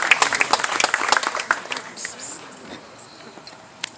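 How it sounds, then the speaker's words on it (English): A small club audience at a Whitestone Republican Club gathering applauds, with brisk, scattered clapping that is loud at first and thins out after a couple of seconds, plus a voice briefly in the background. "Let's give a round of applause to Cindy"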